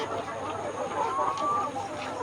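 171-day-old layer hens cluck softly in the background, with murmuring farmyard noise and a faint voice.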